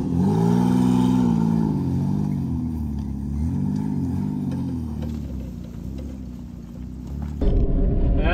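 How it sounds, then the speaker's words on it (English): A crash-damaged Ford Escape grinds and groans while being steered. A loud, low, wavering mechanical rumble with a tonal whine rises and falls, then surges sharply near the end. "That's a lot of grinding going on, holy."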